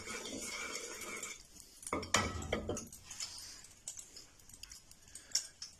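A spoon stirs melting desi ghee in a kadhai, giving metallic scrapes and clinks of metal on metal, loudest in a burst around the middle, then scattered lighter taps.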